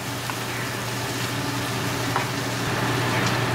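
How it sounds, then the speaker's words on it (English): Spices and masala frying in a pan for a hot and spicy fish curry, with a dense, steady sizzle and a few soft stirring scrapes close by. No one talks. "We'll mix it well."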